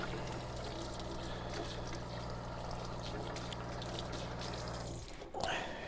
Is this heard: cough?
no